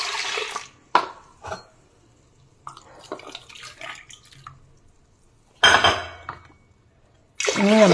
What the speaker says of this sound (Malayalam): ഞാൻ 1 ഗ്ലാസ് മിൽക്കും 2 ഗ്ലാസ് വെള്ളവുമാണ് ഒഴിക്കുന്നത്